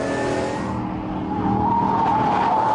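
An Ascari KZ1 supercar with a rebuilt 5-litre V8 drives hard, its loud engine drone climbing steadily in pitch as it revs, with a rushing, tyre-scrubbing edge throughout.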